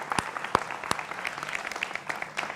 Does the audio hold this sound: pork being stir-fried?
no